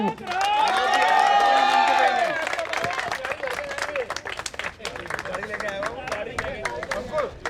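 A crowd at a cricket cup prize distribution ceremony breaks into dense, sustained applause for the man of the match, starting after a sung or drawn-out voice and continuing loudly to the end.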